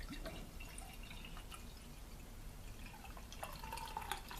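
Beer from a keg pours into a glass in a soft, steady liquid trickle with small splashes and fizzing, faint and close, with no talk.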